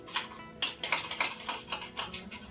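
A spoon stirs ingredients with about a tablespoon of oil in a cooking pan. It makes close, quick, irregular metallic clinks and scrapes against the pan.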